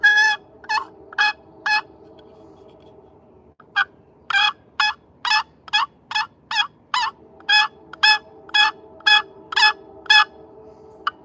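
A wooden turkey box call imitates a hen turkey, sounding close and loud in two rhythmic runs of sharp yelps, a short set of four and then a longer steady series, with no voices.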